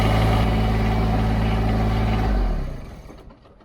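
A faulty TYM tractor engine idles with a loud, steady low rumble close by, then winds down and cuts out, leaving near silence.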